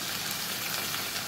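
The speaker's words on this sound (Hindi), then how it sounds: "अब हम इसको अच्छी तरह से खूब भूनेंगे ताकि लोबिया के अंदर भी जो मसाला है, नमक, मिर्च, वो सब मिक्स हो जाए।" Kidney beans frying with beef mince in oil with masala, salt and chilli, giving a dense, continuous sizzle close up. It runs evenly throughout with no voices.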